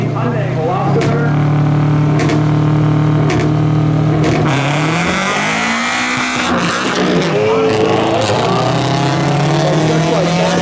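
Drag race between a 2016 Subaru BRZ and a 2019 Hyundai Veloster at a spectator street-racing meet in North Carolina: loud sustained engine drone with rising, shifting revs and tire noise, an announcer talking over it throughout.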